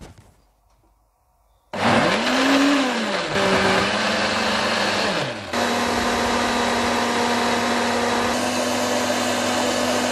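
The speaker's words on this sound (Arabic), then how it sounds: "بس تعالي نضرب السلق مع بعض في الخلاط الاول" A kitchen blender grinds chard with half a cup of soup, starting abruptly after a quiet moment and running loud and steady, with a pitch that dips and shifts as the blades work through the greens.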